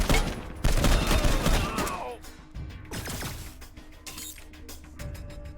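Gunfire rings out in the video game Wasteland 3, a dense burst of loud shots and crashing impacts in the first two seconds, followed by scattered single reports and quieter clanking.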